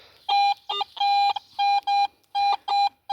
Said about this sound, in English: Get a nice high tone right there